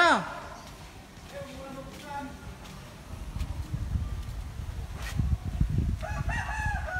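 A rooster crows outdoors on the way to a river, with one crow at the start and another near the end, amid wind noise and people talking.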